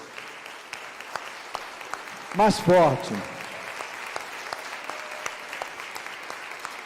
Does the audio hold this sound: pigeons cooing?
no